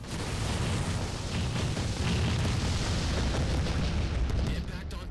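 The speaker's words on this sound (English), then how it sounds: "Bombs away." Bombs explode in a dense, continuous rumbling barrage during a Halo 4 Spartan Ops mission, a loud, steady roar of blasts filling the whole stretch with a voice faintly mixed in.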